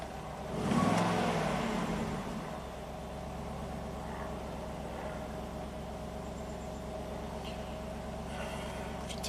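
A Cadillac Allante's Northstar V8 runs at an elevated idle with a steady, even drone. It swells slightly louder near the start and then holds constant with no talk over it.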